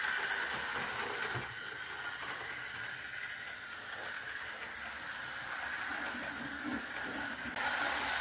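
Hornby R.820 LMS Black Five model locomotive running along its track, a faint continuous hiss and rumble with slight changes as it crosses points, no voices.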